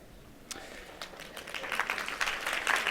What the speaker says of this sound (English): Applause just for that.